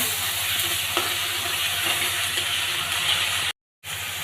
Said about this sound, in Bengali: এখন আমি মশলাটা সুন্দর করে কষিয়ে নেব